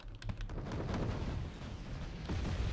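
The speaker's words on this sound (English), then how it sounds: "Then we got the artillery firing." Artillery fire in the real-time strategy game Wargame Red Dragon, a steady stretch of low rumbling booms and distant blasts with a few sharper bursts near the start and near the end.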